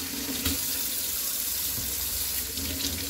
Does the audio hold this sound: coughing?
no